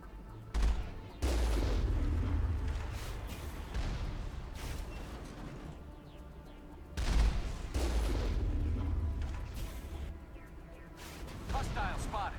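Bursts of rapid gunfire in the Mass Effect video game crackle through a loud, busy combat mix, with a few heavier booming hits standing out; a player's voice talks over the action at times.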